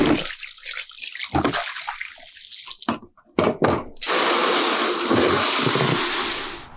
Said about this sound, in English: So now we rinse the tools